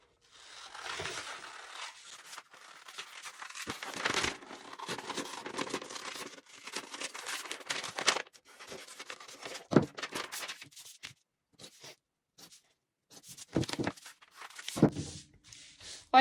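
Scissors cutting fabric for a puffed-sleeve blouse pattern, giving intermittent snipping, rustling and scraping strokes with short pauses, quiet and close with no talk.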